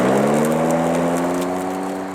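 ECHO 58V brushless cordless 21-inch lawn mower powering on, its motor humming loudly with a steady whine that rises slightly in pitch, alone without talking.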